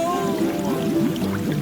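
Water pours and gurgles in a river as a wolf sinks under into deep water in an animated fairy tale, a short bubbling burst over a soft tonal backdrop.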